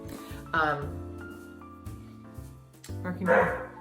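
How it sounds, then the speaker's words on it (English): A dog barks twice at a distance, a couple of seconds apart, over soft background music. "Barking dog, great."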